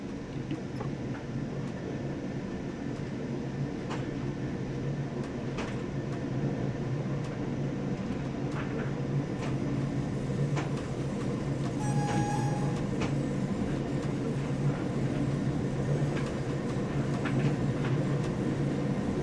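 A DB BR 628 diesel multiple unit heard from inside while running between Salzburg and Rosenheim in Train Sim World 6: a continuous loud rumble of engine and wheels on rail, with occasional clicks and one brief electronic chime partway through.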